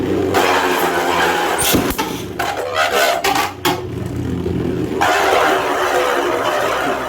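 Gold Beyblade tops, including a Rock Dragon, spin with a steady whirring hiss in a stadium, broken by a cluster of sharp metallic clacks as they clash, then a rough scraping spin.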